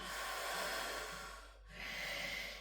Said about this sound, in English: Again, back to that breathing.